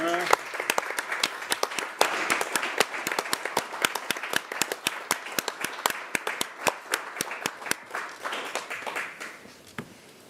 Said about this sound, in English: One more big round of applause for Councilmember Thomas